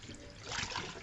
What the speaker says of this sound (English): I'm going to empty the water